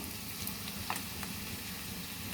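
Chicken and egg fry with cumin seeds sizzling in hot oil in a pan, a dense steady crackle with occasional sharper pops, close and continuous.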